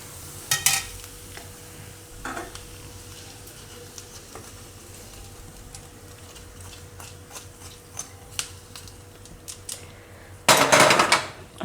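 Bitter gourd chutney being stirred after a hot spice tempering is poured over it, with scattered spoon clinks and scrapes against the bowl and a louder burst of stirring near the end. No one speaks.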